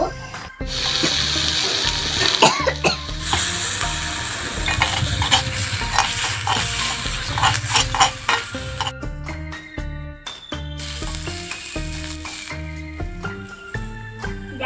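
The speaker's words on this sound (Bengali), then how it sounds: "এইভাবেই আমি শাকটা ভেজে নেবো" Leafy greens from a home garden tossed in a pan with fried chilli give a steady close sizzle, with stirring scrapes and light metallic clinks running the whole time and no one speaking.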